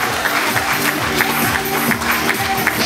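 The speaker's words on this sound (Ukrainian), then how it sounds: "Підтримуй оплесками, друзі!" Wedding guests in a hall applauding, a dense steady clapping from a crowd lasting a few seconds, with no talking over it.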